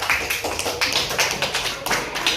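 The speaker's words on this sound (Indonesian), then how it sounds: "tepuk tangan untuk Aisyah." A classroom of students claps for a classmate, a quick and uneven patter of many hands that stays fairly even in loudness across the short stretch.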